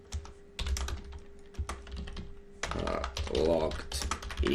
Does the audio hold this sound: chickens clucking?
no